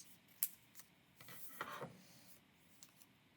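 Scissors snip along the crease of a folded sheet of paper in a few quiet, close rustling cuts, with soft scraping between them and no talking.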